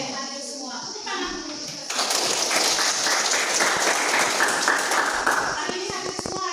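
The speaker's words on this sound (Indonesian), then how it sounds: "Tepuk tangan." A class of children bursts into hand clapping after a short stretch of quieter sound. The clapping stays loud and steady to the end, with kids' voices mixed in.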